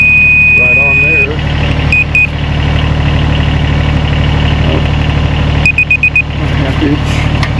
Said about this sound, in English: The multiple beeps means I'm online.